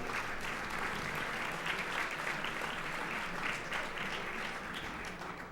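Sustained crowd applause at a television academy awards ceremony, a dense even wash of clapping that holds steady and eases slightly at the end.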